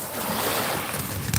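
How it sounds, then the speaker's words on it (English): Steady broadband wash of moving water around a boat, a continuous near swish and lapping with a slight rise in spray at the end, no voices. "A lot of you love to listen to the water."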